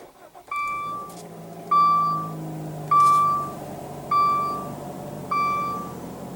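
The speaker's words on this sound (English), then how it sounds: "Just put your foot on the brake and hit the button to start." A 2015 Dodge Dart with a 2.4-liter four-cylinder is started by push button, giving a series of five evenly spaced electronic chimes, each a clear tone that rings and fades, over a low steady cabin hum.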